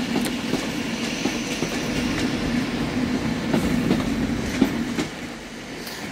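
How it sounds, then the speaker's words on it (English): An East Midlands Railway class 170 diesel unit coupled to a second 170 rolls into Manchester Piccadilly station, a steady rumbling engine drone with rhythmic wheel clicks and light squeals, fairly close, with no talking. "As an EMR also arrives in, class 170, paired with another 170 that is in its old livery."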